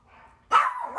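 A dog lets out one sharp, loud bark nearby after a brief quiet moment with faint background sound, followed by a shorter yelping tail.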